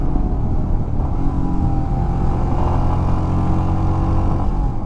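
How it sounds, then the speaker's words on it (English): A 2021 Royal Enfield Himalayan adventure motorcycle's engine rumbles close and steady during a ride, a deep, throbbing note that stays fairly even throughout. "I also find it incredibly easy to rev match on the downshift."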